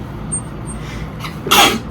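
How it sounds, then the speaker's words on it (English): A single sharp sneeze bursts out near the end after a quiet stretch with faint background noise. "I had to sneeze."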